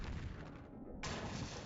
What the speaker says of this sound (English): use the aimed shot with these big cannons with big, blasty, meaty bullets